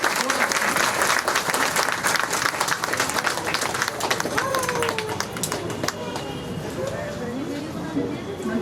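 Audience applause at a school annual function as a woman is welcomed onto the stage, dense steady clapping from a large crowd that thins slightly toward the end, with voices underneath.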